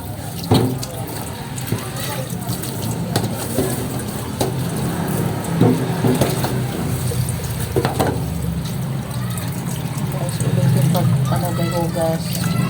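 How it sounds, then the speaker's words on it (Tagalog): Fish being rinsed for a third time under running tap water at a sink, a steady splashing water flow throughout with handling noises and a voice talking over it. "Paghugas ng isda guys, pangatlong hugas talaga yan"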